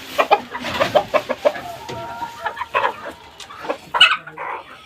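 Village chickens clucking close by in short, choppy bursts, several birds overlapping in an irregular rhythm, loud and clear with no talking over them.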